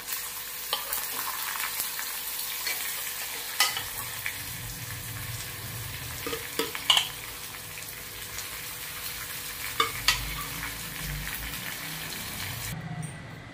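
Colocasia leaves sizzle and fry in a hot pan with garlic and turmeric, a continuous crackling hiss broken by several sharp scraping stirs of a spoon.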